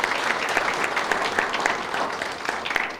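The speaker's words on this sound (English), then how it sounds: "So give them a round of applause in advance for that." A crowd at a mayoral election forum claps for the candidates, a loud, dense burst of applause that keeps an even level for a few seconds without any talk.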